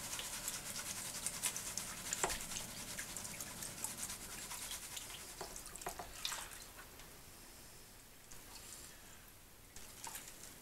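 Gold pan shaken with gravel and water in a creek setting, a continuous wet swishing and rattling of stones with occasional sharper clacks, fading quieter toward the end.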